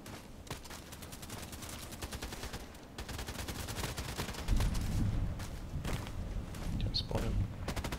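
Enemy gunfire in a sniper video game: a sustained, dense rattle of rapid shots and heavier thuds running throughout, fairly loud and continuous, with occasional talk mixed in.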